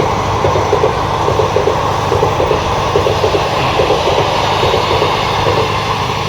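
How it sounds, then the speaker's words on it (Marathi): A local train passes close by near Dahanu in Palghar, Maharashtra, its wheels beating out a loud, steady, rhythmic clatter over the rails under a continuous rumble, with no voices. "क्या टायमिंग है भाई ट्रेन का"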